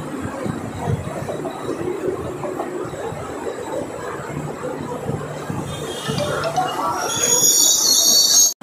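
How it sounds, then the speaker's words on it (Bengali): A night train pulls into platform 2 at New Bongaigaon Junction, its steady rolling rumble building into loud, sustained high-pitched wheel squeals near the end, with no voices. "আমাদের ট্রেন এখন নিউ বঙ্গাইগাঁও জংশনের 2 নম্বর প্ল্যাটফর্মে ঢুকছে।"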